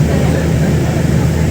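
Steady, loud engine roar from an airplane at Tirupati airport, a continuous low rumble with broadband noise across the whole moment, close by and without clear talk.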